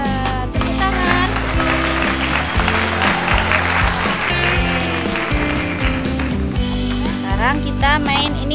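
Hands clapping over a busy music track at a children's educational toy session, with a voice mixed in; the claps are fairly loud and close but partly buried under the music.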